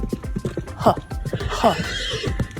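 A horse neighs in two short whinnies over clip-clop hooves, close and fairly loud, with a voice talking throughout.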